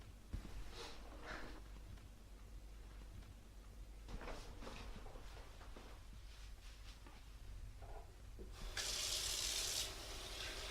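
Tap water runs into a bathroom sink at teeth-brushing time, quiet and intermittent at first with small splashes, then a steady, louder stream gushing near the end.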